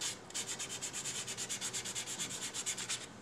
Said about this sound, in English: run the sandpaper quickly